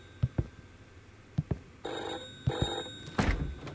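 A telephone rings inside a house in a foggy video game, with short bell bursts sounding off and on among dull thumps and footsteps, loud and close.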